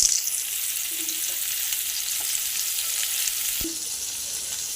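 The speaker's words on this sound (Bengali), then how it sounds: "এগুলো এবারে কম আঁচ দিয়ে উল্টে পাল্টে ভালো করে ভেজে নেব" Salt-and-turmeric-coated pieces of pointed gourd fry on low heat, giving a steady soft sizzle throughout with faint occasional clinks as they are turned, no talking.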